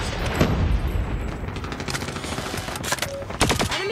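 Rapid bursts of KSP-45 gunfire in a shooter video game crackle close and loud, with dense clusters of shots and a couple of sharp blasts near the end, a busy game soundscape behind.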